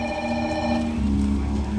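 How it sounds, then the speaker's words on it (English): A rescue team's telephone rings steadily with a sustained electronic tone that fills the clip, loud and close, and no voices are heard. "I think that's the rescue phone now."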